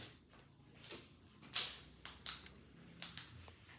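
Fabric being cut for neck and armhole facings, scissors giving a few sharp, separate snips spaced irregularly at close range over a soft room hush.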